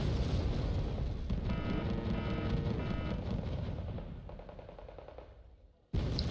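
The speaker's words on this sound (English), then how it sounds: "Caesar also firing, dealing with the Bravo push" Rapid gunfire crackles through a video game battle in dense, loud bursts that slowly fade, then cut off before one sharp final report.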